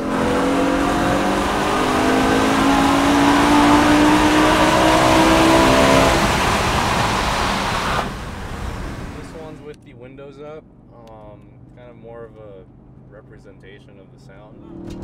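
A BMW E60 M5 engine with Eventuri aftermarket intakes roars loudly, revving hard for several seconds with a throaty intake rush, then drops to idle as a voice speaks over the quieter rumble.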